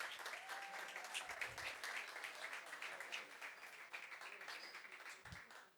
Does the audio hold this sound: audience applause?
yes